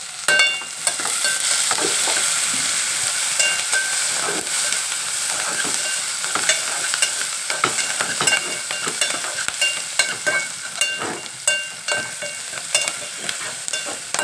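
Onions and curry leaves fry in a pan for a mutton and ridge gourd curry, a steady close sizzle broken by frequent scraping stirs and clicks of the spoon, with no voices.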